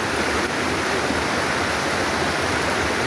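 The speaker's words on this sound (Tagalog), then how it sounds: "Malakas ang ragasa ng tubig kasi syempre umulan siya." A strong waterfall swollen by rain rushes loudly and continuously up close, a dense unbroken roar of water with no voices.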